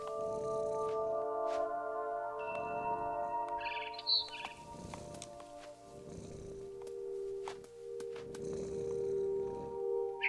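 A cat purrs in the video game What Remains of Edith Finch, with soft rhythmic pulses repeating steadily beneath sustained game music tones and a few faint bird chirps.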